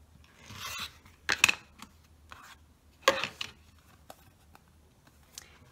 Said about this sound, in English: I am simply going to go around here and trim it away.